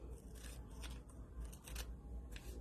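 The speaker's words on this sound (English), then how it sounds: "Just going to cut the print down." Scissors snipping through a photo print, several quiet, irregular cuts and paper rustles up close.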